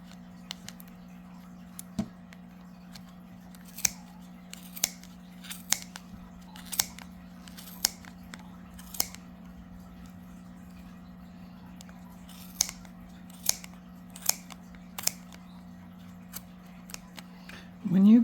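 Scissors snip through yarn wrapped on a Clover pompom maker in sharp, separate clicks spaced irregularly over a steady low hum, with a rustle at the very end.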